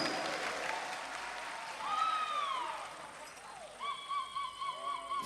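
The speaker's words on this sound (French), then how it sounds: "Un tonnerre d'applaudissements" Audience applause with whistles and rising whoops welcomes a slam poet at a slam poetry final in Bobo-Dioulasso, Burkina Faso. A broad wash of clapping fades after a few seconds and gives way to shrill, repeated whistling near the end.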